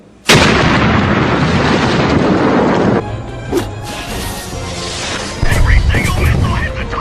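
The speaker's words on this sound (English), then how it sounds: "Every single missile hit the target!" Cartoon missiles strike a target in a Sonic Boom scene, with a sudden loud blast that roars for about three seconds, a quieter stretch with smaller impacts, then another burst of explosions, with voices mixed in.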